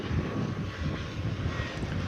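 An American Eagle Embraer 175 airliner at DFW Airport gives a steady, broad engine roar, mixed with gusty wind buffeting the microphone throughout.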